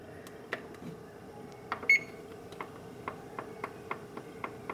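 An oven's control panel is being set with a series of short, crisp beeps and ticks in a quiet kitchen, one slightly longer tone near the start, then evenly spaced presses.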